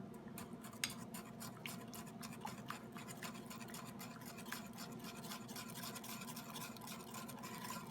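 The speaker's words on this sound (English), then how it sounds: "Whisk that really carefully," Steady wire-whisk scraping and clinking in a bowl of cake mixture as boiling water is worked in, quiet and continuous with fine repeated strokes, close by and without talk.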